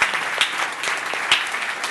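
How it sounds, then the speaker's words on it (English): Conference audience at an Angular developer talk applauding, a dense continuous patter of many hands clapping at moderate volume, with a couple of sharper individual claps standing out. "round of applause"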